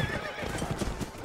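Horse hooves clip-clop rapidly and close while a horse neighs, in the Mount & Blade video game, with the galloping rhythm and whinny both loud and clear.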